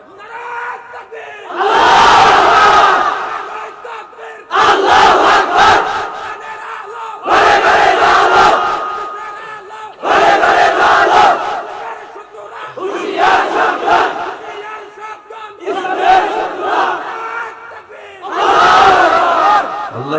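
Large crowd at a religious sermon shouting the takbir in unison, about seven loud, roaring chants separated by short silences, each burst lasting around two seconds.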